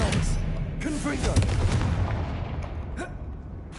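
Confringo blasting spell cast in the Hogwarts game, a dense roaring burst of booming blasts and crackling impacts that fades after a few seconds, with a voice speaking over it.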